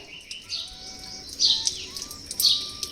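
Small birds chirp near scattered puffed rice outdoors, giving short bright tweets and a few louder bursts of chatter over a quiet background.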